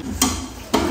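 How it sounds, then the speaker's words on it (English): Tomato sauce being stirred in a pot, two brief scraping strokes of the spoon over a soft, continuous bubbling simmer. "So where we are right now is just stirring."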